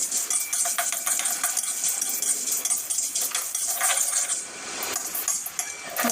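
Panch phoron, fennel and coriander seeds dry-roast with dried chilli in a pan, a continuous loud rattling, scraping stir with crisp ticking of seeds against the metal.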